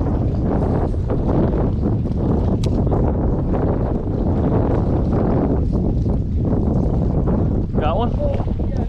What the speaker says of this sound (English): Phew, it's getting windy,